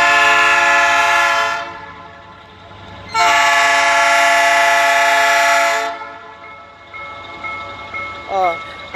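A train crossing through the city of Jaraguá do Sul, Brazil, rumbles past close by while its horn blares in two long, loud blasts separated by a short gap.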